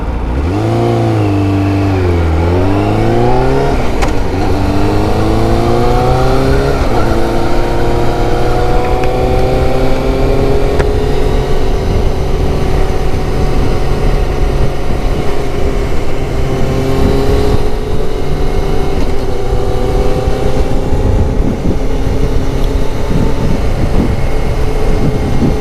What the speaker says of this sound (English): Enjoy the noise of an inline 4 with a full race Mycronic exhaust.